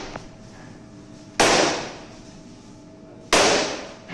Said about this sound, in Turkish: Bunları da birkaç kere tezgaha yere vuruyoruz.